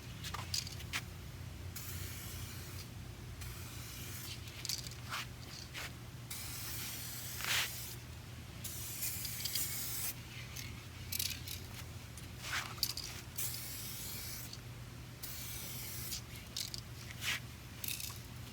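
Spray gun laying a second coat of clear coat on a car, heard as a string of short hissing bursts separated by brief pauses. The spray sounds close and fairly loud, with no talking.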